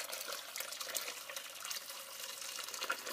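Pasta cooking water being poured off from a pot of spaghetti, a steady continuous rush of liquid running into a sink, fairly close and unbroken with no talking.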